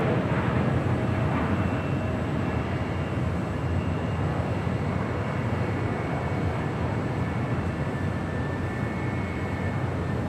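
A constant, heavy jet roar from an American Airlines A319 taking off at Los Angeles International Airport, steady broadband engine noise sustained throughout without speech.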